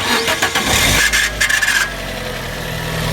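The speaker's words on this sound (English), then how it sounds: "I'm almost sure that's the starter motor on its way out." Fiat 500 with a failing starter motor cranking roughly, a brief grinding, rasping whir that sputters for about two seconds before fading to a low idle-like hum, close by with no talk.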